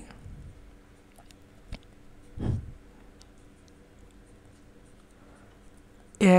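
A pen scratches quietly over paper while maths working is written out by hand. The faint strokes come with a couple of small taps and a brief louder rub midway.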